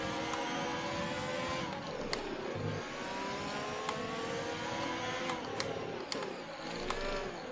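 A Formula One car from the F1 2020 video game races along with a steady, whining engine note that rises and falls through gear changes, mid-level and continuous, with no talking.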